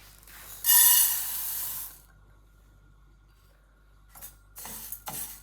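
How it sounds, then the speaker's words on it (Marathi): Skin-on urad dal dry-roasting in a pan gives a bright, close rattle and scrape of grains as it is stirred. Two separate bursts are divided by a near-silent pause. "आता आपण ही डाळ पहिल्यांदा भाजून घेऊयात."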